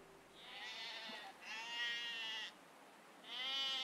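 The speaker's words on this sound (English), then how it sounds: "Yep, there go all the sheep" Sheep bleat in a video game, three long wavering calls in a row with short gaps between them, fairly close and clear, with no talking.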